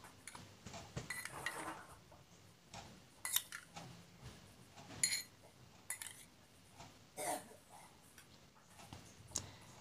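Egg yolks whisked in a bowl for fried meatball batter, a quiet series of irregular clinks and ticks of utensil against the bowl, close and light with soft handling noise between strikes.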